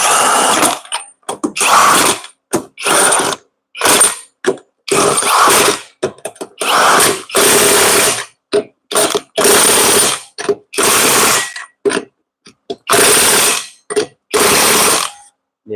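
Impact-style power tool torquing lug nuts, firing in repeated loud bursts of rattling ratchet-like hammering separated by short pauses, close up and with no talking.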